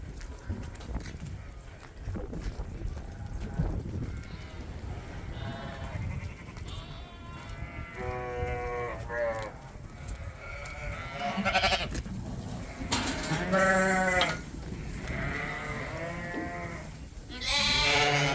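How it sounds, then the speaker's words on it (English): Rams bleat repeatedly as they are moved around a farmyard, several loud wavering calls rising over a background of shuffling hooves and movement. "the rams move pretty easily because they are used to being outdoors and wandering around the yard"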